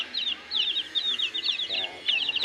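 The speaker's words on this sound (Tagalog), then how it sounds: "Ayan, mga sisiw." Young chicks peep constantly in a coop, a dense run of high, thin repeated chirps close by, with a brief low voice murmuring in the background.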